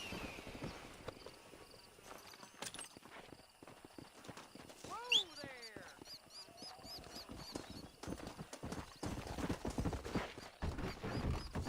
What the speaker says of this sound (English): Meu Deus, cavalo!